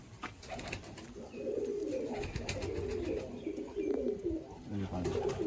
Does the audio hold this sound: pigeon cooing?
yes